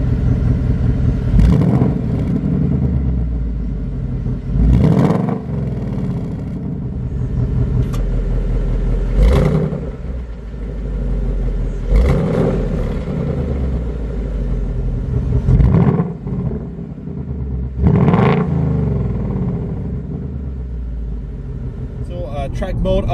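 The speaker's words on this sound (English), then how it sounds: "the exhaust can change the sound, the note of it" A 2019 Ford Mustang GT's rumbling variable exhaust note swells and fades through a series of sharp revs, with a person talking over the engine throughout.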